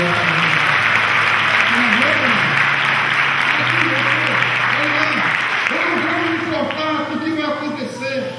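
A church congregation at a family worship service applauds, a sustained roar of clapping with music and a singing or shouting voice carrying over it, the clapping thinning toward the end.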